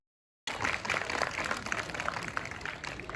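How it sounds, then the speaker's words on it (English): Audience in a school science quiz hall clapping for a team's correct answer, a steady dense patter of many hands at moderate distance, fairly quiet and continuous with no talk over it. "Clap your hands, audience."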